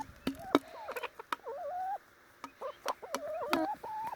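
Backyard chickens at close range in an Australian yard, clucking and murmuring in short, irregular calls with sharp pecking taps mixed in.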